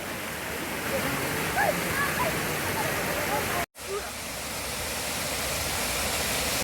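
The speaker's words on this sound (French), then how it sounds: "il y a 3 niveaux de cascade" Waterfall cascading down several tiers on Siquijor Island, Philippines, giving a steady broadband rush of falling water close by, briefly cut off near the middle and then continuing at the same level.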